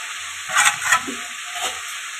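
Leafy greens go into a hot kadai and fry with a bright hiss, a couple of stirring bursts rising over the constant sizzle.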